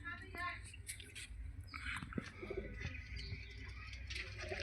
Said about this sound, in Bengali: কাটা গলতান পায়রা।